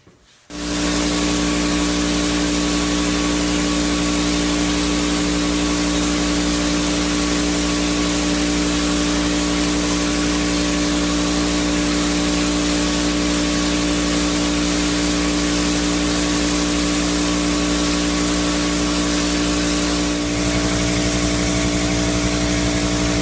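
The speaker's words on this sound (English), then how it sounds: "Getting ready for the texture to be applied with that machine right there." Drywall texture spraying machine starts up almost at once and runs as a loud, steady mechanical drone for the rest of the clip, close by with no talking.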